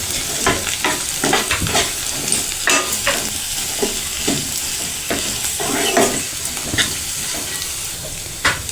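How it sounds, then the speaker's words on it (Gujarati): Red chili powder and coriander-cumin being stirred into mung bean korath in a pan over a low flame, with a continuous sizzle and hiss broken by repeated scraping strokes of the stirring spoon, close up with no talk. "હવે તેને હલાવીને મિક્સ કરી લઈશું."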